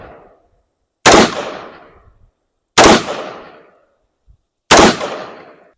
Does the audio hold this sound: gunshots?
yes